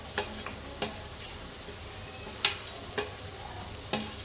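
A spoon stirs onion curry with garlic-chilli paste, spices, jaggery and peanuts, scraping the pan in about six sharp strokes over a quiet, steady sizzle, with no voices.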